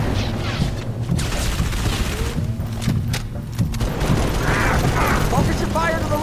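Bursts of rapid gunfire and booming explosions fill a Halo 3 ODST battle, with shouted soldier voices and mechanical clatter mixed in, loud and close throughout.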